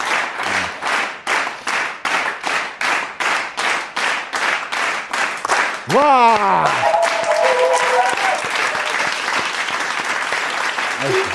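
An audience at an Easter special show claps in a brisk, regular rhythm for about six seconds. A loud vocal cheer follows, with more scattered crowd noise and clapping continuing to the end.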